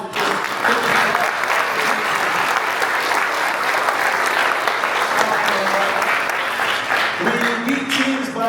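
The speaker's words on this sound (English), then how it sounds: "give them a round of applause" Steady applause from an audience at a school sports banquet, dense clapping sustained throughout with crowd voices mixed in, fading slightly near the end.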